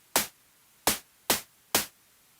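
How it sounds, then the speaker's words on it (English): Four short bursts of bright synthesized white noise in Bitwig, each a quick hiss that decays fast, spaced unevenly and fairly loud against near silence. "Fundamental. White noise."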